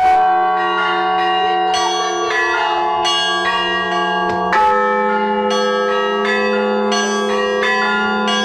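Church bells rung by hand in a bell tower peal loudly and close, several bells of different pitch struck in an irregular, overlapping rhythm with long ringing tones and no talking.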